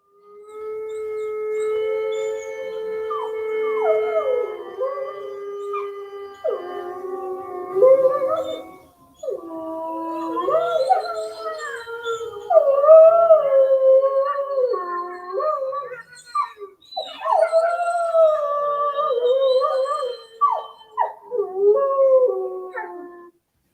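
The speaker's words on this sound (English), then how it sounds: "Definitely, we have some wolves in Canada, and they were howling." Wild wolves in Canada howl in long, rising and falling chorused tones that overlap and waver for over twenty seconds, clear and fairly loud against a quiet background.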